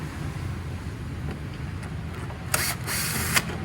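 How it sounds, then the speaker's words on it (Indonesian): Mechanical ratcheting as a bolt is unscrewed on the body of a 2021 Honda Scoopy Prestige scooter: a few sharp, close clicking bursts near the end over a steady low background hum, with no talking. "kemudian baut di sini kita buka"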